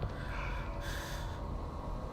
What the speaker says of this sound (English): that was just a breathing sound of hers